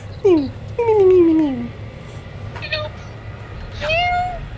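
A person imitates a little kitten meowing, giving several drawn-out, falling mews close to the mic, with a short pause before a final higher meow.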